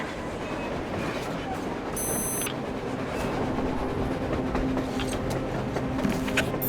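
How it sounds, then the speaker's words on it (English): A train rumbles steadily in the video game Metro Exodus, a continuous heavy rolling noise under a dense mix of in-game sounds with voices speaking faintly through it. "A train! A damn train on the surface!"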